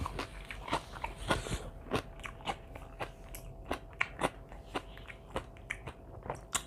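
Crunchy chewing of fresh shrimp and salmon papaya salad, with close, loud bites and crackly crunches repeating at a steady pace, no talk.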